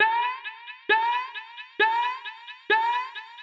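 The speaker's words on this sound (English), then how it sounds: "he's created this rising effect by basically taking a syllable within that sample" A bright vocal syllable, gradually opened by an auto filter, repeats in a steady chopped rhythm, four accented pulses with quicker repeats between, its tone building as it goes.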